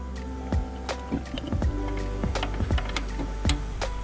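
Repeated manual pumping of a rod to bleed a Ford brake master cylinder during a Wilwood disc brake conversion, with a makeshift vise grip holding it: a series of short, close squishy clicks and knocks at an irregular rhythm.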